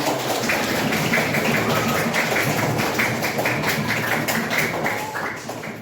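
An audience claps together in a dense, loud, steady wash of hand claps at a morning assembly, fading slightly toward the end with no voices standing out.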